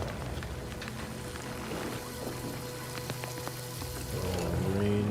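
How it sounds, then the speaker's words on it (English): A rain machine sprinkles water over plants in The Outer Worlds 2, a steady pattering spray lasting throughout, with a louder swell near the end. "Oh, rain machine going on there."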